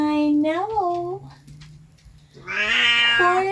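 A pet cat meows indoors, close and loud, in two drawn-out rising and falling calls separated by a quiet pause, with no talk over them.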